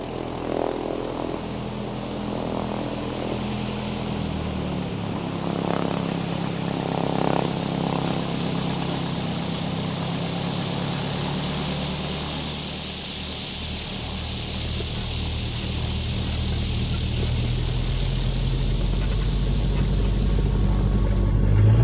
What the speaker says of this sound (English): The plane is ready to go.